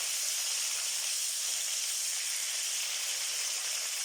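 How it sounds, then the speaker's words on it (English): Steady crackling hiss of bacon frying in a pan, continuous and even, with no voices. "I hope you can hear me over the sizzling."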